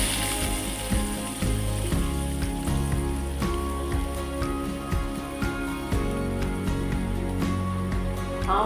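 Chopped onions sizzling in a pan of hot oil while cooking jeera rice, a steady close crackling hiss that runs throughout with occasional utensil taps and no talk.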